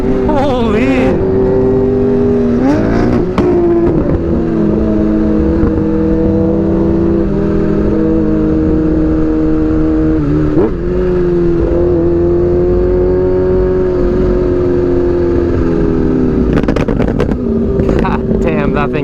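A Lamborghini Aventador and a Ninja H2 motorcycle rev their engines, rising and falling through loud, continuous high-pitched engine roar close by, with brief voices and wind in the background.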